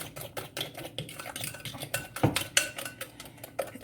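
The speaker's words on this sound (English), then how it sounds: "And then you just whisk together until it's thick, creamy, and pale yellow" A sugar and vanilla paste for crème brûlée being whisked in a bowl, quiet rapid metallic clinks and scrapes in an uneven rhythm, close and fairly soft, with no talking.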